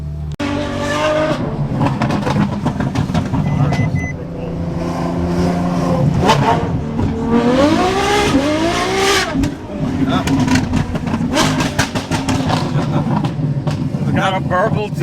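A Ferrari sports car's engine revs and climbs through gears while driving, loud and close from inside the cabin, with rising and falling pitch sweeps, occasional tire squeal and people talking over it.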